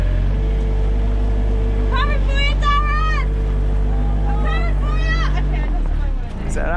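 A forklift on a bricklaying site drones with a loud, steady engine hum up close while it is driven and put into reverse, with several people talking over it.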